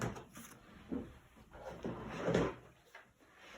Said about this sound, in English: Let me show you my drawer.